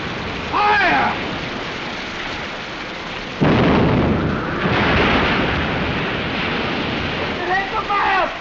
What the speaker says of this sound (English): Fire that gun